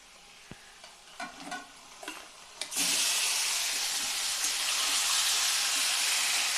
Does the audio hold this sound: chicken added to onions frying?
yes